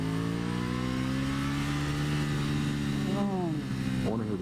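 An Aprilia Tuono motorcycle engine-brakes on a mountain hairpin road, a steady loud engine note that sinks slowly in pitch as the revs fall, then gives two short downshift blips near the end.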